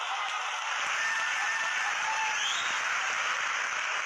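Steady, continuous applause from an audience, a dense even wash of clapping that holds at the same level throughout with no voices on top.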